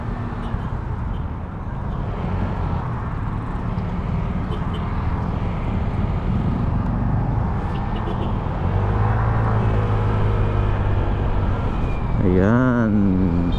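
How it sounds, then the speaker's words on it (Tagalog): Congested road traffic near Punta Taytay, a steady loud rumble of engines close by, with a vehicle's whining rising tone late on and a voice talking faintly underneath. "Medyo traffic dito sa may mga kamoto"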